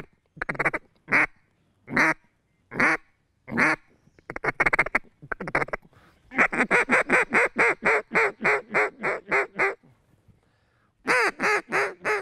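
A duck call imitates quacking ducks, loud and close: a run of spaced quacks, then a fast, rhythmic series of rapid quacks, ending with another burst.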